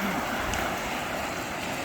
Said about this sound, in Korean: 오, 파도 온다, 파도 온다.